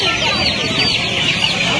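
Two-month-old Australian-breed chicks cluck and chatter at a poultry market, a steady close flock sound with people talking faintly around them.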